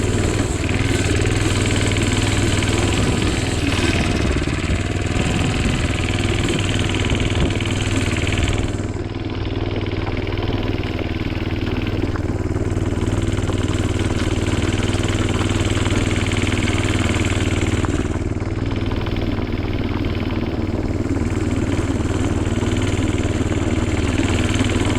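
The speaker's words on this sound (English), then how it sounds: "I'm just burning tire." A minibike engine revving steadily and loud while its tire spins on snowy ice, a continuous droning roar with slight dips, close up with no talk.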